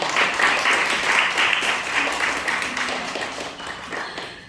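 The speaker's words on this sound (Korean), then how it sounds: "여러분 뜨거운 박수로 격려해 주세요" Children in a church worship service applaud a newly introduced sixth-grade teacher, a steady wash of small hands clapping that holds for several seconds and slowly thins toward the end.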